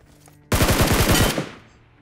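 Rapid automatic gunfire in a shooter video game, a dense burst of about a dozen close, loud shots lasting under a second, then a decaying tail that fades out.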